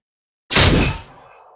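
A single Sentinel sniper rifle shot from Apex Legends, redesigned from processed white noise: a sharp, loud crack that starts abruptly, holds briefly, then trails into a thin decaying tail.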